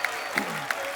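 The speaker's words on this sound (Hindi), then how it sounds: "जोरदार तालियां के लिए" A studio audience on a comedy talk show claps in a brief, dense burst of applause with a few sharper peaks, filling the whole second.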